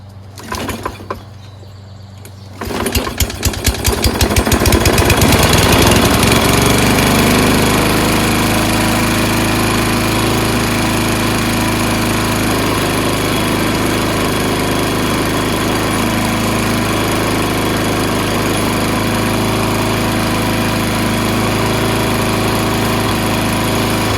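A Toro Recycler self-propelled lawn mower with a Kohler 6.75 engine and a rusty flywheel starts after a brief pull and settles into a loud, steady close-up running drone that continues to the end.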